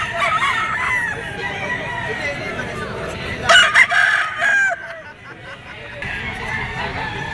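A gamecock rooster crows at a busy pet market, its harsh call rising above chatter and crowd noise, with a brief louder burst in the middle. People talk in the background.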